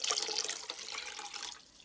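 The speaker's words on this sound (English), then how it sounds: "So you're going to fill a bowl with some water." Tap water runs into a bowl, a steady bright splashing and trickling stream that softens slightly toward the end, with no speech over it.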